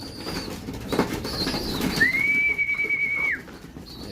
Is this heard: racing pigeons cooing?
yes